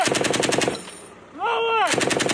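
U.S. Marines fire weapons in rapid machine-gun bursts, loud and close, broken by a shouted command in the middle before the shooting resumes.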